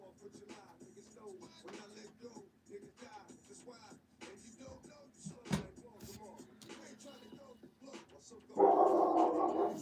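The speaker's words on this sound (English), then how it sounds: "I got another dog out there barking with Nova." A dog barks intermittently outside in the background while a person talks nearby, ending with a burst of louder noise.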